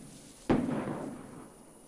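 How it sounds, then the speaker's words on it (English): Fireworks go off in a film scene from The Last of the Mohicans (1992): one sharp burst followed by a rumbling decay lasting over a second, moderately loud, with no talk over it. "Oh, look, fireworks."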